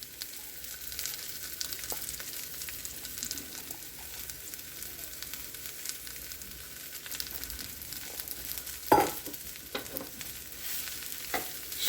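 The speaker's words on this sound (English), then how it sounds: "We will go ahead and start adding the mushrooms in and get them rendering down." Mushrooms go into a pan of nearly caramelized onions and fry in a soft, even sizzle. One sharp clank of a utensil stands out near the end; no one speaks.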